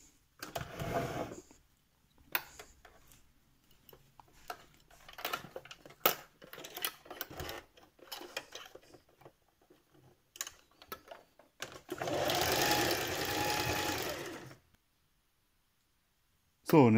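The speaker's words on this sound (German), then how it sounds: "dann näht man einmal außenrum" A sewing machine runs around the edge of fabric for a My Little Pony Izzy Moonbow plush, a steady burst of stitching of a few seconds that follows quieter handling clicks and rustles, with a voice speaking at times.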